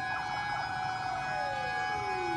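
A Cebu City Fire Department fire truck siren wails loudly in Barangay Mabolo during a mayor's funeral procession, a continuous electronic tone sweeping downward in pitch, close and steady, with no talk.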